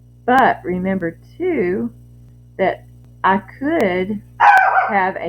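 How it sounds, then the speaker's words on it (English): Dogs bark in sharp, loud bursts of several yips and woofs, separated by pauses, over a steady mains hum, with a voice speaking briefly among them. "Sorry about the dog noise."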